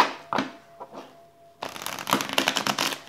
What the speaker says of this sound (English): These cards were pre-shuffled, but I'm going to shuffle them a couple more times.